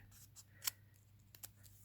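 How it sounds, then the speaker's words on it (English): Scissors snip at a folded teabag paper Christmas tree, giving a few faint, sharp clicks in quiet surroundings, with one crisp cut standing out. "I will take my scissors and I will carefully"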